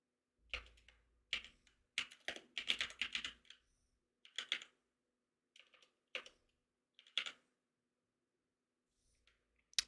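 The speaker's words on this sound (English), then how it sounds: "What am I typing today?" Fingers type on a computer keyboard up close, in irregular bursts of quick clacking keystrokes separated by short pauses, then fading into a few isolated taps near the end.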